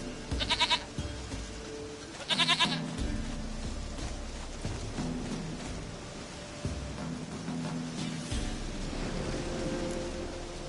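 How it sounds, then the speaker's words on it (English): Goats bleat in The Witcher 3: Wild Hunt, two short bursts of layered cries near the start, then quieter game ambience with low rumbling tones and faint scattered noise carrying through the rest. "Goat of mine, dearest, sweetest goat."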